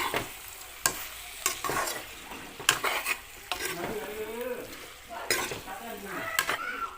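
Meat and onions fry in a pan, a steady sizzle broken by repeated scrapes and clacks from a stirring utensil, close and clear, with no voice over it.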